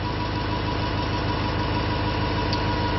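A universal motor running on power from six batteries at about 385 RPM, giving a loud, steady, unbroken droning hum with no change in pitch over the short stretch.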